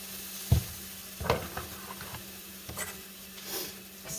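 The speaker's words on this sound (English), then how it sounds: "So here we go. Add a little bit at a time." Beef broth poured a little at a time into a hot pan with round steak, giving soft sizzling hiss with a few sharp splashes and bubbling bursts, fairly quiet and alone.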